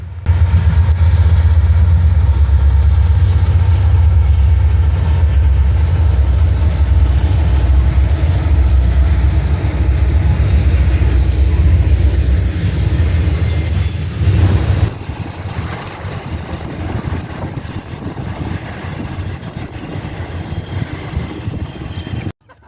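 A Norfolk Southern intermodal freight train with an SD60 locomotive rolls past as a loud, heavy rumble with broad rail noise that drops in intensity about two-thirds through and continues more softly to the end.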